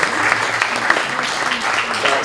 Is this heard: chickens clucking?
no